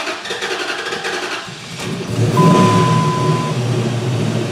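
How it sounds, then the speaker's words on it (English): A 5.7 Hemi Ram engine with a bad misfire and rough idle cranks briefly, then catches and settles into a loud, uneven running rumble, close up, with no talking. "Hopefully that stays up while I crank it."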